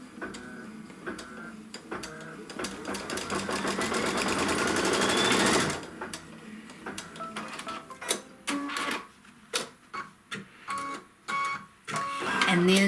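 A sewing machine stitching a seam on quilt fabric for a Kimberbell Wallflower block, a fast steady whir building for several seconds, then stopping, followed by short stop-start bursts of stitching and clicks.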